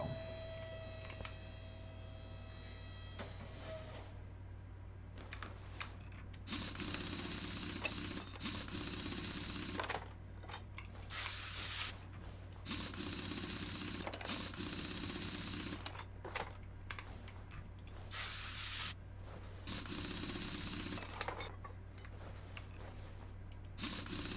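Car suspension parts come off a Super Bird in the Car Mechanic video game: repeated bursts of harsh mechanical tool noise, each lasting a second or two, over a faint constant electrical hum, quiet overall with no speech.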